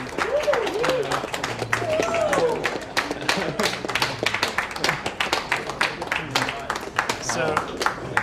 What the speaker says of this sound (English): Give some claps.